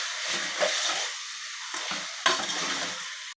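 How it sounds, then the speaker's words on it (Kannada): Mutton chops gravy with salt stirred in a pan, a bright bubbling sizzle broken by a few quick scraping stirs, close and alone. "ಸ್ವಲ್ಪ ಉಪ್ಪು ಹಾಕ್ಕೊಳ್ಳಿ. ಚೆನ್ನಾಗಿ ಮಿಕ್ಸ್ ಮಾಡ್ಕೊಳ್ಳಿ."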